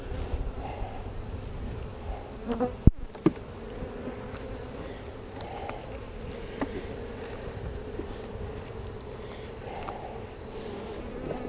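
Honeybees buzz around an open hive during an inspection, a continuous close swarm hum with individual bees passing near, plus a brief sharp knock and a few faint handling sounds.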